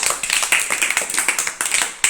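Children in a classroom clapping together, a quick run of sharp, fairly close claps in a steady rhythm lasting about two seconds.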